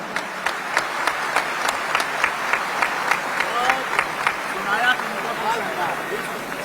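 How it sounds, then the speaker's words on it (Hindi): An audience at a comic poetry gathering claps in a loose, spaced rhythm, individual hand claps standing out distinctly rather than merging into a roar, with faint voices underneath. "एक बार तालियां बजाकर इस बच्ची का मन बड़ा करिए।"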